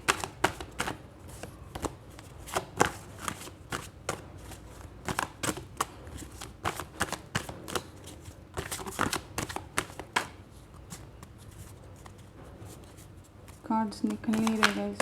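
A deck of tarot cards is shuffled by hand in rapid, uneven bursts of riffling and slapping. The sound is close and crisp, and a voice briefly joins near the end.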